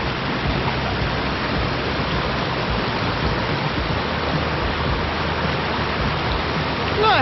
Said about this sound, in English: This is what we are camped beside. And this is one of 3 streams that converge here in this area.